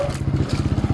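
Rapid, rhythmic low thumping of a large motorcycle engine idling or moving slowly on a village street in Masbate, close and loud, with a faint clatter on top.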